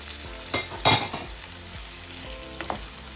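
Chicken in tomato sauce with pepper is stirred in a pan, a low bubbling sizzle broken by a few scraping utensil strokes, one sharper clatter early on, close and moderately loud.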